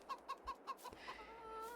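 Chickens in a farming video game cluck in a quick run of about six short, bright calls, fairly close and clear, trailing into a softer drawn-out call at the end.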